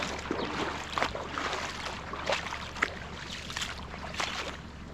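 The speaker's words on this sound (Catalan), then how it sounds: "us vaig a travessar el riu, que no és fondo" A 4x4 vehicle crosses a shallow, ankle-deep river in Angola, giving a steady rushing wash of water and engine rumble with intermittent splashes, close and fairly loud throughout.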